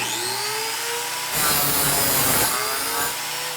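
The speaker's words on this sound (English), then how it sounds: "Then we just start the saw and chop it." Power saw chopping through a golf club shaft at a 45-degree angle: a whining motor hum, then a loud harsh cutting burst for about a second before the blade spins back down.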